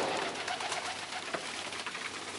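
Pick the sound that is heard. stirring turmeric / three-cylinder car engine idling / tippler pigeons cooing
tippler pigeons cooing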